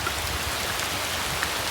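Steady rain falls in a dense, even hiss, with drops pattering on a surface nearby.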